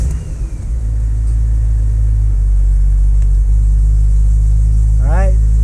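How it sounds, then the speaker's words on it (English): BMW E9X M3 engine cranking and firing up with a loud burst, then settling into a steady, deep idle rumble close by, with a voice speaking briefly near the end. "Let's start the car."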